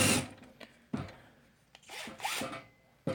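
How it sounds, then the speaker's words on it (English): A drill with a 1/4 inch bit bores pin holes through a wooden paint stick for a knife. Close, scratchy grinding comes in several short bursts with brief pauses between them. "want to drill the holes for the pins. I'm using a 1/4 inch bit"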